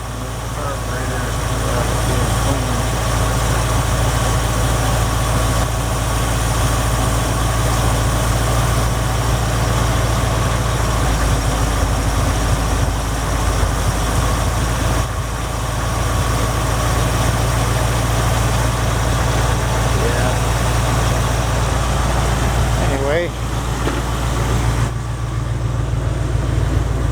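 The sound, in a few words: 1974 Jeep CJ5 engine idling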